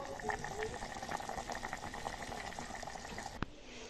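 A pot of khichuri cooked with shing fish bubbles at a low simmer, a faint steady burble with soft gurgles and one sharp knock near the end; a voice is faintly present in the background.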